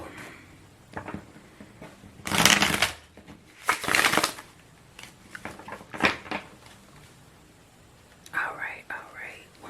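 Tarot cards are shuffled in bursts of crisp riffling and soft papery rustles, close and intimate, with whispering between them.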